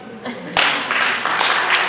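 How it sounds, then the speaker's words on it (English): A club audience starts clapping after a sudden sharp onset, then keeps up a loud, dense burst of applause from many hands; faint voices sit underneath. "So clap for me."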